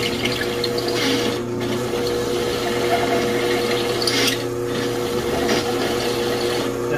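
An Irwin drill bit bores steadily through wood while a step is built for a Farmall Super A tractor, giving a continuous close whirring and grinding drone with a faint tonal whine and no breaks.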